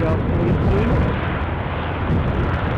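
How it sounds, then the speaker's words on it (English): A Loganair ATR 42 turboprop departs Aberdeen Airport, its engines a loud, heavy, continuous roar held steady through the short stretch. "Across here to the departing Loganair"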